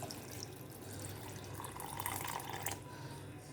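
Water is poured into a grinder jar with salt for grinding a paste, a soft, steady splashing trickle at close range, fairly faint and continuous.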